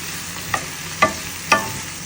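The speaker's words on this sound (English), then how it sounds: "We'll stir that around" Spinach stirred in a hot frying pan for a creamy Tuscan chicken dish, with a soft sizzle underneath and three distinct scraping strokes of the spoon spaced about half a second apart.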